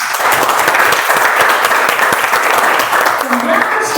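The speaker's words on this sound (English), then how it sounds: "give a big thunder round of applause for my speaker" A Toastmasters club meeting audience applauds a speaker with a loud, dense, continuous round of clapping filling the whole span, with faint voices underneath.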